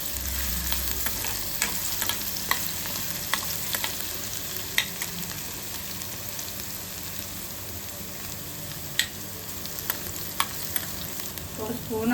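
Garlic paste fries in a pan for a Telugu mung dal, spinach and tomato dish: a steady, close sizzle broken by occasional clicks and scrapes of stirring, with no voices.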